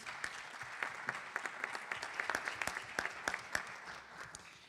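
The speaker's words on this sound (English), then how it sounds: "so a round of applause" Soft audience applause at a school board meeting, honoring a retiring teacher, many separate claps heard at a distance, building slightly and then tapering.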